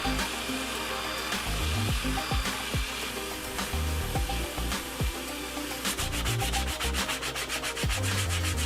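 A power tool shaves recycled plastic into a guitar body, giving a steady, loud, continuous grinding and rubbing roar with repeated scraping strokes and a faster buzzing rasp near the end, while a vacuum is hooked up to collect the shavings.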